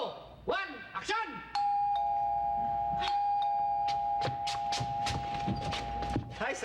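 A doorbell chimes on a sitcom set, its ding-dong notes followed by a long sustained tone, while voices talk and footsteps and knocks sound nearby.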